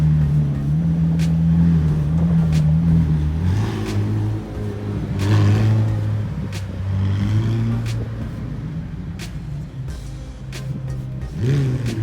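A McLaren Senna accelerates hard, its engine note rising and falling through steady, loud, close revving with gear changes across the whole stretch.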